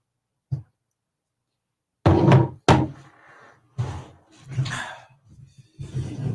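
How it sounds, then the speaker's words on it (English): A door opens with a sharp clunk, followed by a second thud and an opening of ambient background sound, with muffled voices and movement afterward. "open that door, crack it"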